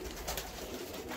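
Pigeons in a loft coo softly against a dense background of rustling and ambient noise, a low, murmuring sound heard close by with no speech.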